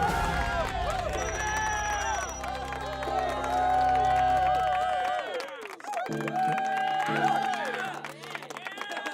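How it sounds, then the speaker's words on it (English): A crowd claps and cheers continuously over music during a live Gran Turismo 7 racing stream, with a voice talking over the loud, steady applause. "Okay, easy on the clapping."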